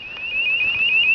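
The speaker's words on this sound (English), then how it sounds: "The DVR is set to turn the sounder off after a few seconds." CCTV DVR alarm sounder triggered by a camera tamper detection, giving a steady, shrill electronic warble that repeats in fast even pulses, loud and close with no talk over it.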